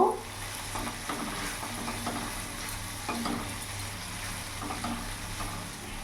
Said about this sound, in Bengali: এবার সব মশলা উপকরণগুলো ভালো করে মিশিয়ে নেব